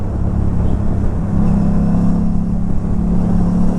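A KTM RS 457 motorcycle exhaust fitted with a dB killer gives a steady, loud, bassy drone at close range, holding an even low rumble throughout with no talk.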